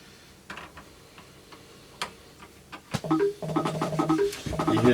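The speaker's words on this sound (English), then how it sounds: "that's the cat walking on my keyboard." A cat walks across a computer keyboard, making sparse, soft key clicks and taps over the first few seconds before louder tonal notes take over.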